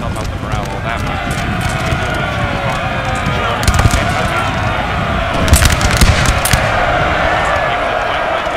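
Musket volleys and cannon fire in a Napoleon Total War battle, a dense rattle of gunfire with sharper crackling bursts over a constant roar of troops, while a commentator talks throughout.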